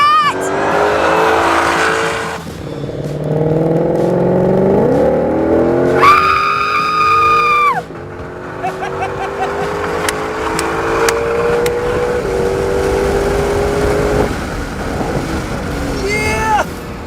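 A Shelby Mustang GT500 accelerates hard on a race track with a loud, close engine roar rising through gears and tire squeal, while excited voices shout over it.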